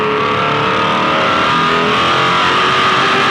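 Race car exiting turn 4 at Phillip Island, a loud sustained high-revving engine roar holding a steady pitch, close and continuous for the whole moment.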